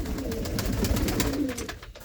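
Pigeons of bred fancy strains, including red-spotted birds kept by a fancier, coo in low, steady rolling calls close by, filling the short moment with no voices over them.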